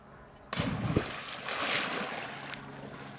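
A person cannonballs into water with one heavy splash, then the water churns and sprays loudly, with wind noise and an outdoor background.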